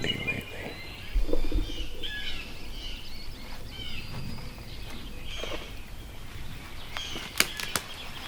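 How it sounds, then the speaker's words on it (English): Birds call and flutter in the morning on a windy Kansas turkey hunt, with wing flaps, soft coos and scattered chirps over steady wind noise, moderately near. "It's the first time in a few days where the birds are actually singing."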